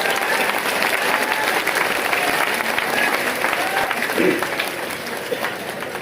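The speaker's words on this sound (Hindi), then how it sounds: "एक बार उनके सम्मान में सब लोग खड़े होकर ताली बजाइए" A seated audience rises and applauds in honour of a guest at a public talk, producing steady, dense clapping from a large crowd that stays loud for several seconds and then eases slightly toward the end.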